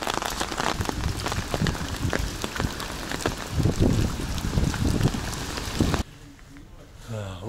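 Heavy rain and storm in Antalya pour down steadily, with wind gusts and occasional hail-like clatter; a broadband wash dominates for six seconds, then drops to a quieter indoor backdrop.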